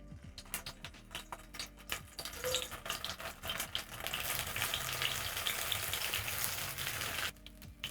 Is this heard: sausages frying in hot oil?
yes